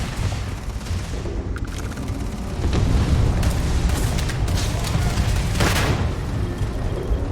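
Landmine blasts in the space game Starfield boom and rumble in a dense, continuous barrage, with sharp gunfire-like cracks layered through the roar.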